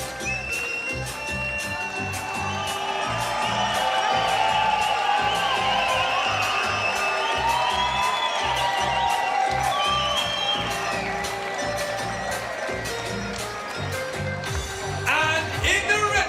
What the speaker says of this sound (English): You're going to hear that pop from the crowd.